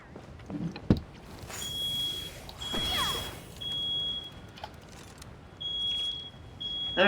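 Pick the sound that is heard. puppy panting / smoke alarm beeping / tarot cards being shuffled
smoke alarm beeping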